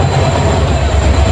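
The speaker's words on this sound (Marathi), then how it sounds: "आम्ही या ट्रेन मधून नाही जाणार आहे." A train on the Badlapur road line rumbles past close by, a loud, continuous roar of wheels and carriages with no voices.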